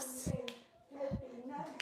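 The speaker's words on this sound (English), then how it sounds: "Give yourselves a clap." A small group of people clapping their hands at the end of a full-body workout set, a few brief bursts of claps with music and voices around them.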